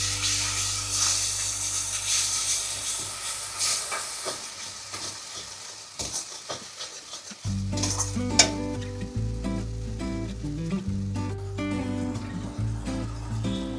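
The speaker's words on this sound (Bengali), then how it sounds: "তারপরে বেটে রাখা সর্ষে পোস্ত, কাজু বাদাম, কাঁচা লঙ্কা একটা বাটা আছে দিয়ে নাড়াচাড়া হচ্ছে।" Mustard, poppy seed, cashew and green chilli paste is being stir-fried in oil for a Bengali mustard fish curry: a steady, loud sizzle with spoon scrapes, rising to a fuller crackle partway through, with no talk.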